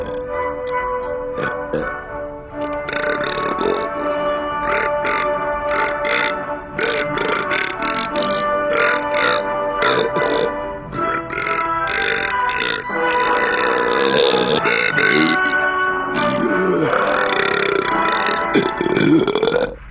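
Loud, drawn-out burping in a TV commercial, one long belch rumbling almost continuously for about twenty seconds with its pitch shifting throughout.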